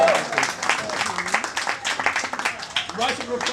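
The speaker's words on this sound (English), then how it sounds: "round of applause for Steve." Dinner guests applaud at a retirement dinner, dense clapping that swells and fades unevenly, with voices talking and calling out over it.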